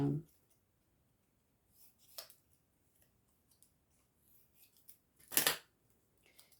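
Scissors snipping a word out of paper during an art-therapy collage session, with a few faint crisp snips scattered across quiet, ending in one louder cut.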